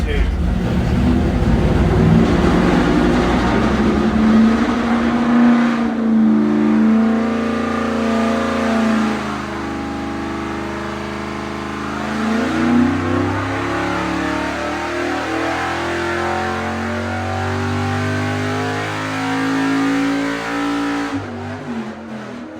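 A Chevrolet C-10 pickup's engine revs and roars loudly for a long stretch, its pitch rising and falling with throttle, while people talk over it.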